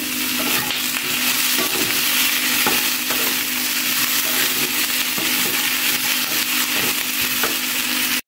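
Green chillies frying with vegetables and tofu, a loud continuous sizzle close by with intermittent stirring scrapes, ending in a sharp knock.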